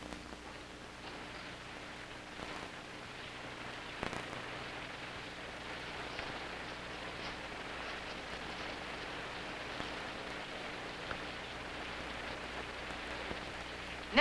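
Steady rain falls and patters on a surface outdoors, a continuous even hiss with soft scattered drops throughout and no voices.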